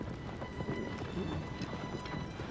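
A horse gallops in the video game Shadow of the Colossus, a rapid, continuous drumming of hooves under a dense rumbling wash, steady and fairly loud for the whole stretch.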